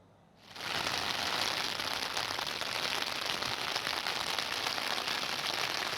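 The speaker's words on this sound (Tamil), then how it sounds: "ஒரு மணி நேரத்திற்கு மேலாக மழை வெளுத்து வாங்கியது" Heavy rain pours steadily in Tiruvannamalai, Tamil Nadu, a dense, even hiss that starts abruptly after a brief quiet moment and continues loud and unbroken with no voices.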